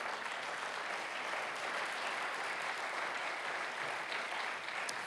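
A church congregation at a worship service applauds in a steady, dense wash of clapping that holds at an even level throughout, with no voices standing out.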